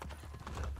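Horse hooves clopping in Assassin's Creed Brotherhood, a quick run of muffled, rhythmic hoofbeats over low rumbling game noise in under a second.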